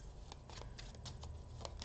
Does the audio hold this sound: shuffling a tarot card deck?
yes